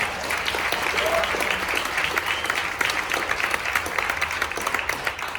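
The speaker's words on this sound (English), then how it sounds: "Give Peggy a hand clap and her staff." Inside a church, a congregation gives Peggy and her staff a round of applause, a steady, full wash of many clapping hands that carries on unbroken, with faint crowd sounds mixed in.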